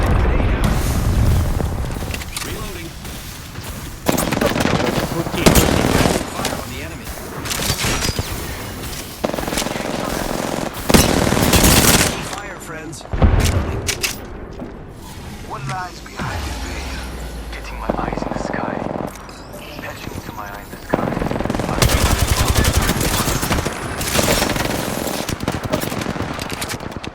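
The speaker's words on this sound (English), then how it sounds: "The second squad is firing on us." Sustained automatic gunfire and scattered blasts from a squad in a video game set in an end zone, loud and near, with bursts repeating across the clip under frequent talk from players.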